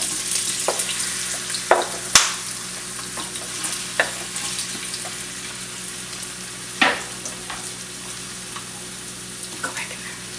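Potatoes frying in a pan on medium-high heat, a continuous soft sizzle with occasional sharp pops and scrapes of a utensil, no voices.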